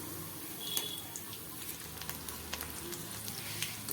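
Banana flower chilli frying and being tossed in a pan, a soft steady sizzle broken by scattered sharp pops and light scraping clicks, fairly quiet and close, with no voices.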